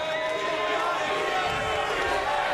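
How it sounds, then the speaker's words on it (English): Wrestling crowd in an arena chanting together, a dense, continuous roar of many voices filling the space with no gaps. "And the fans chanting CLB, which of course means creepy little bastard."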